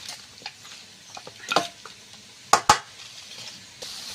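Potatoes frying in a pan, cooked nearly through, with a soft steady sizzle under scattered stirring scrapes and a few sharp clinks of a utensil against the pan.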